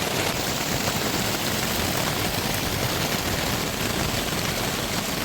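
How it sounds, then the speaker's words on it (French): Dense, steady downpour roaring without a break, a thick wash of noise with no voices. "Et il pleut de plus en plus."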